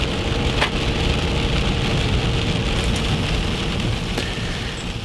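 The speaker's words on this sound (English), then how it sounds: "It's raining." Steady rain pours on a wooded Arkansas hunting area during pre-rut season, a dense, even hiss on leaves and ground with a few sharper drips and snaps rising above it throughout.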